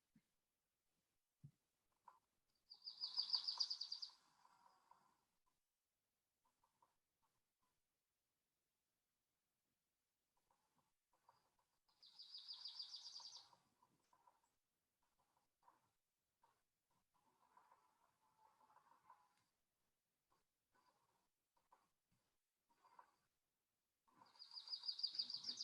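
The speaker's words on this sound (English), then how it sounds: "So if you hear this in ponderosa pine forest, you're probably hearing a Grace's warbler." A Grace's warbler sings three bright, quick trilled phrases spaced well apart, with faint soft chips and ticks between them in a quiet setting.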